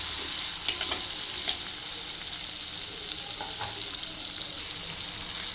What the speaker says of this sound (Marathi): हे कांदा टोमॅटोचे तुकडे त्यात फ्राय करून घ्यायला व्यवस्थित हलवून घेते